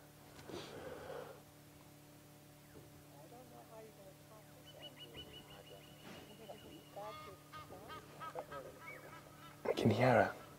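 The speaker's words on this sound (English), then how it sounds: "Can hear an Egyptian goose making noise in the distance." An Egyptian goose honks in the distance at sunrise in the Sabi Sand bush, faint calls under quiet talk, with a louder honking burst near the end.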